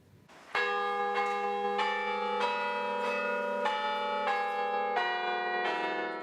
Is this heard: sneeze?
no